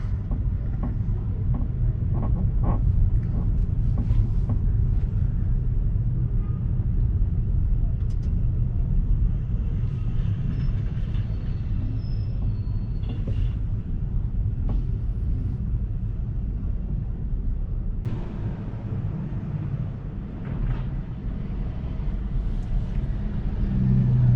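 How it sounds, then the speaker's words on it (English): Continuous low road rumble of heavy Manhattan traffic heard from inside a Tesla, with engines and passing vehicles blending into a steady drone and occasional louder swells. "lot of traffic here"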